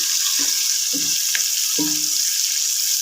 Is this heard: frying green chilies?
yes